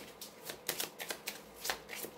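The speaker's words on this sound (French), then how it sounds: "On va voir avec le petit Lenormand, on va pas faire beaucoup de cartes." Small Lenormand oracle cards are shuffled by hand, a close, soft riffling of papery slaps and flicks in quick, irregular bursts over a quiet room, with no speech.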